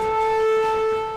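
An air raid siren wails in an old factory bomb shelter, a loud steady tone held throughout with no talking.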